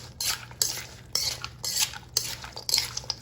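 A utensil tosses Tuscan kale salad dressed with lemon juice in a bowl, giving repeated scraping, clinking strokes in an uneven rhythm, close and crisp, with no talking.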